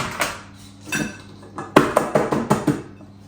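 A home-baked sponge cake being knocked out of its tin, with a few soft clangs at first and then a quick run of sharp metallic taps and knocks against the pan, close and fairly loud, with no talking.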